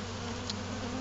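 Honey bees and yellow jackets swarm an open outdoor sugar syrup feeder, giving a continuous close buzzing drone that holds steady for a brief moment with no speech.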